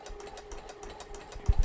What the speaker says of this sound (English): So here we go with just a regular zigzag, and it's going to make kind of look like an eyelet.